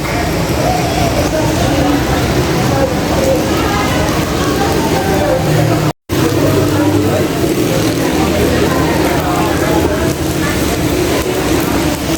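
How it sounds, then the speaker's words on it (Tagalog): Continuous dense rain hisses and patters loudly, a steady wash of drops with a brief dropout in the middle. "Dilim na kasi umuulan."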